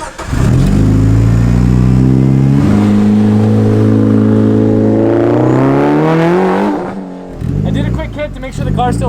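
A Mitsubishi Lancer Evo 6.5 TME RS engine, roughly 400 horsepower and turbocharged, revs hard and climbs steadily in pitch, loud and close, then drops off sharply before a quick blip; a voice talks over part of it.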